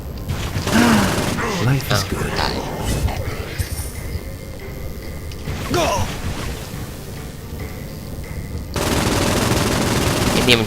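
Rapid light machine gun fire crackles in repeated bursts amid game effects and booms in Saints Row: Gat Out of Hell, with a voice talking over parts of it.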